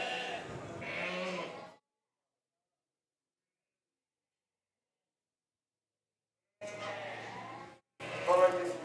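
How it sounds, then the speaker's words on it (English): Poll Dorset sheep at a championship show bleat in a couple of close, loud bursts at the start and again near the end, with a long silence between. "Can't believe how noisy those little sheep are when they get moved around"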